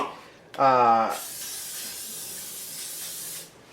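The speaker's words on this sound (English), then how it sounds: "Okay, so I'm gonna spray this pan down." A short spoken phrase, then a steady aerosol cooking spray hisses continuously onto a pan for a few seconds before cutting off.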